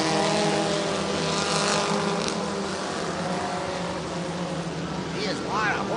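IMCA Northern SportMod race cars roar around a dirt track at a night points race in Nipomo, California, engines loud and continuous with a pass-by sweep near the end, under a track announcer's commentary.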